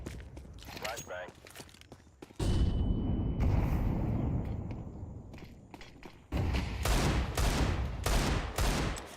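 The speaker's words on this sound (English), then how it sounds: "Double flash B. Flashbang." In a Counter-Strike 2 matchmaking round, flashbangs pop and gunfire rattles in loud, sustained bursts separated by quieter stretches, while a player talks over the action.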